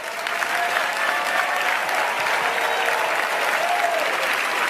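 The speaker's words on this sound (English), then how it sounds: "let's look around and give them a round of applause" An audience at a company business meeting applauds steadily, a sustained wash of clapping from a large crowd with no break and no talk on top.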